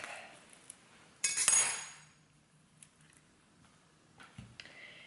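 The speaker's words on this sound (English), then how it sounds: "So I'm gonna cut my avocado in half." A kitchen knife slicing an avocado in half on a board, a sharp clack of blade and board followed by faint scraping and a few soft knocks, close and quiet with no talk.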